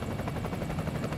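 An anti-drug surveillance helicopter flies over the Strait of Gibraltar. It gives a loud, continuous, dense rotor and engine roar with a steady low throb and no talk.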